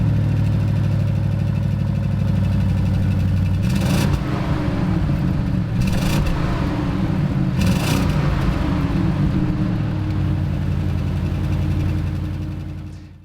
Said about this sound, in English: This one, however, is a V8 bi-turbo petrol engine, 600 horsepower